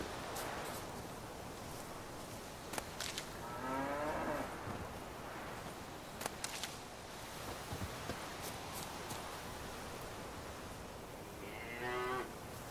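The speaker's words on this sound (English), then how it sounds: "that's the most realistic cow I've ever seen in a game" Two separate cow moos from The Witcher 3: Wild Hunt video game, one near the middle and another near the end, over a steady hiss of ambient noise with a few soft clicks.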